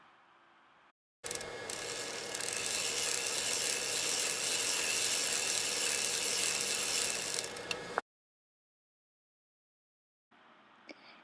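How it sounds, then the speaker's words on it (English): An LT150 knitting machine knitting rows of single-feed blue yarn, a steady mechanical whirring and clatter of the carriage lasting several seconds before stopping abruptly, with no talk. "I'm going to knit 12 rows of just single feed blue yarn"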